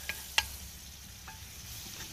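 A syrupy glaze bubbles with vegetables, scallions and onions in a pan over an outdoor cooking fire, a soft steady simmer and sizzle with a couple of small metallic clicks near the start.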